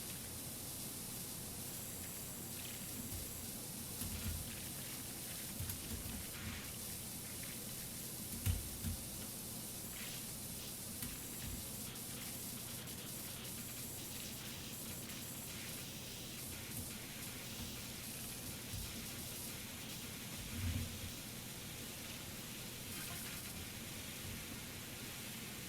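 In a power-washing video game, a pressure washer's turbo nozzle sprays as a continuous, faint, even hiss, with a few soft knocks scattered along its length and no voices.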